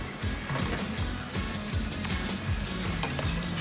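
Creamy seafood pasta sauce with wine, prawns and squid simmering in a pan, a steady close sizzle and bubbling with repeated stirring strokes scraping through the sauce.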